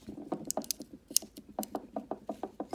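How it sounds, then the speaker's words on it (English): The pocket clip on an EOS Mini Nautilus Mini Cleaver folding knife is slid back down, giving a quick series of small, close metallic clicks and scrapes in an irregular rhythm. "Slide that pocket clip back down"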